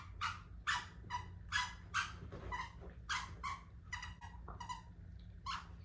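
A dog barks repeatedly in a quick, uneven series of sharp yips and barks, fairly close indoors, with no one talking over it.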